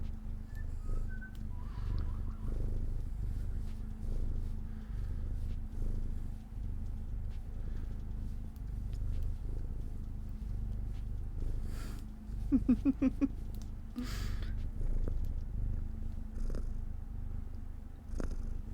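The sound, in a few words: cat purring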